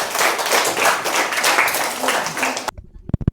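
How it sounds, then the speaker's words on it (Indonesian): Classroom applause for a student group, dense rapid clapping from many hands for a few seconds, then trailing off into a handful of scattered, louder individual claps. "Mari kita beri aplaus untuk kelompok 6."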